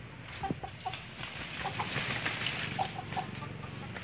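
A young, tall Bangkok fighting-breed chicken, not yet old enough to crow, gives several short, scattered clucks at moderate distance over a steady, noisy outdoor background, with no talking.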